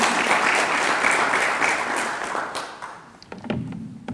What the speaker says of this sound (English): Please, a round of applause for our